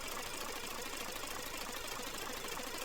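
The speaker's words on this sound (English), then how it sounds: "Just an ordinary car engine, now flexed." An ordinary car engine runs steadily as raw material for mechanical sound design, giving a dense, continuous, even roar with a faint knocking texture and no pauses or voices.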